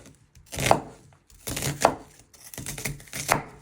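A knife chops a peeled onion on a board, three distinct crunchy strokes, each a short burst of slicing and tapping, evenly spaced and close, with no voices.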